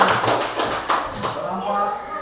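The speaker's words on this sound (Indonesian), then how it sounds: "Tepuk tangan untuk kelompok 3." Students in a classroom give a group of classmates a short round of applause, brief clapping and tapping over a busy room with voices mixed in.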